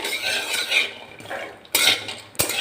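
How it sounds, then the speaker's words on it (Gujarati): Dry fruits roast in ghee in a pan as a spoon stirs and scrapes them, making loud close bursts of scraping and clatter that rise and fall, with short pauses between strokes. "તમે આ રીતે ઘીમાં એને થોડા એવા રોસ્ટ કરશો ને તો એનો ટેસ્ટમાં ચેન્જ આવી જશે"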